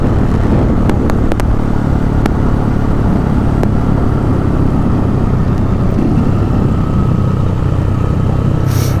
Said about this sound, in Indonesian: Nah udah banyak kendaraan yang beraktivitas.